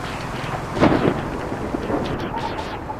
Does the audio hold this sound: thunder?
yes